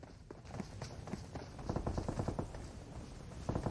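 Gunfire in the mobile battle royale PUBG Mobile, heard as a run of rapid, fairly faint shots in quick bursts with light movement sounds between them.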